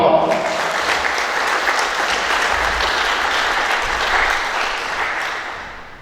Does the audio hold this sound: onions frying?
no